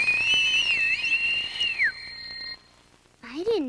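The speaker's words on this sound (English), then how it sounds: "I didn't know you could whistle that loud" A woman's loud, shrill whistle holds a long piercing note that bends downward and cuts off, followed by a short quiet gap and a brief voice.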